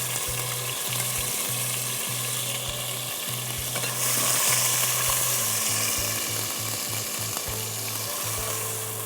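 Onion paste frying with spices in a pan for a coconut-milk chicken curry, a steady loud sizzle with repeated stirring scrapes throughout and a brief surge of hiss partway through.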